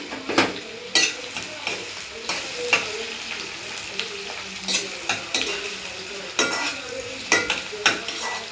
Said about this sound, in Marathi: कांदा चांगला लाल होईपर्यंत परतायचा आहे.